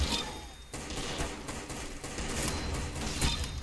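Gunfire from a gun in a video game crackles in rapid bursts of sharp reports, fairly loud and close, with no talking.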